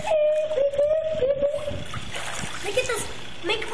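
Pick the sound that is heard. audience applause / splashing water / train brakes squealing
splashing water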